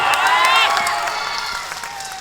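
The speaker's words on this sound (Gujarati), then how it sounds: "એકવાર તમારા માટે તાળીઓ થઈ જાય" A large outdoor crowd at a Kisan Mahapanchayat farmers' rally in Sudamda claps and cheers. The applause is a dense, sustained roar, loudest at first, with raised voices over it, then slowly fading.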